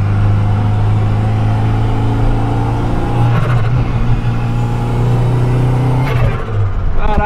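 A VW Kombi van fitted with a 300 hp Audi S3 engine roars steadily under acceleration, a loud sustained engine drone with rising pitch, close by and without talk.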